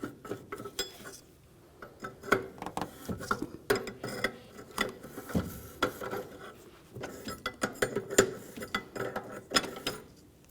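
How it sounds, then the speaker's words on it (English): Wrench loosening the EGR tube nut on a 2002-2005 Ford Explorer engine, a steady run of close metallic clicks, ticks and clanks in an uneven ratcheting rhythm, with no voices. "you're going to have to start by using an 1 1/16 wrench to loosen this nut"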